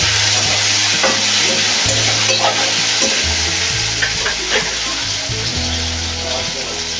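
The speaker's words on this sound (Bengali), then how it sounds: "এবার দিয়ে দেবো একটু টমেটো।" Tomato dropped into a pan of already-fried onion sizzles loudly and steadily up close, with stirring scrapes and small spatters breaking through the frying hiss; low voices can be faintly heard underneath.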